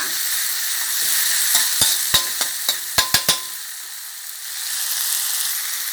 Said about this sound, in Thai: พริกแกงเผ็ดหนึ่งขีดค่ะใส่ลงไป ผัดพริกแกงให้หอมก่อนค่ะ